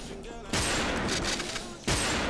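Two loud, sharp sniper rifle shots ring out in the WolfTeam video game, about a second apart, each with a lingering crack and tail over a faint background.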